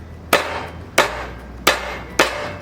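Four sharp, evenly spaced thwacks as a kitchen knife's flat blade is pressed down and smashed onto garlic cloves on a cutting board, each a close, loud impact with a quick decay.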